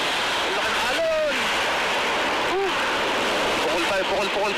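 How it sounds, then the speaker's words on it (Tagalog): Large ocean waves at Ruby Beach on Washington's Olympic Peninsula roar in a steady, loud surf wash, while someone talks in short bursts close by over the breakers. "Ang laki ng alon."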